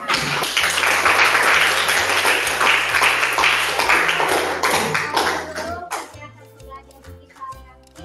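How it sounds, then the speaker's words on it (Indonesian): A classroom of students claps together in a burst of dense applause that tapers off after several seconds, with children's voices and chatter rising as the clapping fades. "Oke, kasih aplaus dulu semuanya"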